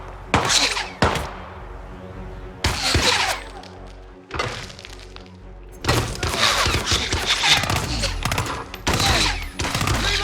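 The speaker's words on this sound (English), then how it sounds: "We got gunshots." Gunfire erupts in the video game Hitman 2, with loud bursts of shots and rapid volleys separated by brief pauses, close and punchy, with faint voices in places.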